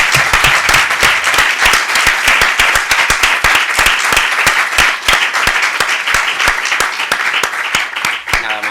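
Enthusiastic audience applause fills a hall at the close of a conference on urban challenges, many hands clapping loudly and densely in a sustained, unbroken roar for several seconds.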